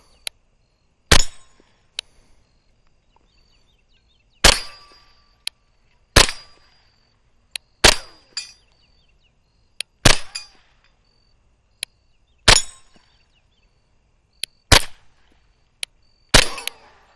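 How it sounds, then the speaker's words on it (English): A KelTec Sub 2000 Gen 2 carbine fires about eight sharp, loud gunshots at irregular intervals outdoors, each cracking and then fading quickly, with smaller clicks and impacts between them and no talking. "Ricochet. Pew! Lots of ricochets."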